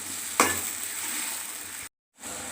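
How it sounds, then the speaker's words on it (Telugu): Onions fry in hot oil with a steady, hissing sizzle, one sharp knock of a spoon near the start and a brief moment of silence near the end. "ఈ ఉల్లిగడ్డలు కూడా గోల్డ్ కలర్ రావాలి, అప్పటిదాకా ఆయిల్నే వేగనివ్వాలి."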